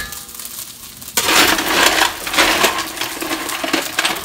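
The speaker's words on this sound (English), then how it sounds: "Coal in this bag was a little wet. That's the sizzling you're hearing." A steady, close crackling hiss starts abruptly and continues: wet coal sizzling and spitting in a hot stove.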